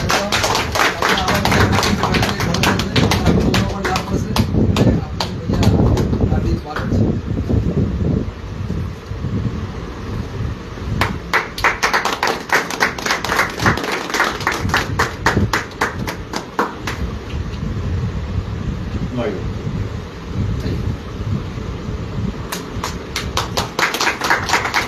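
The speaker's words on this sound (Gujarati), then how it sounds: "આપણે બધા તાળીઓ પાડજો" Crowd at a political rally, Aam Aadmi Party meeting, clapping in a long rough burst of hand taps and thumps, close and uneven, with wind buffeting the microphone and some voices mixed in.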